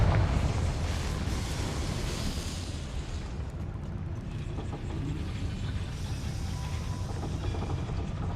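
Bombarda and Confringo spell blasts in the video game Hogwarts Legacy, heard as a loud, continuous roaring explosive rumble that runs throughout and is strongest at the start, with no talk.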